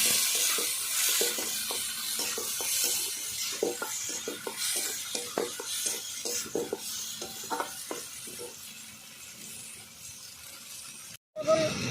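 Spice paste with turmeric and salt sautéing in a pan for chicken curry with raw papaya, a steady sizzle and hiss broken by repeated scraping stirs, close and moderately loud.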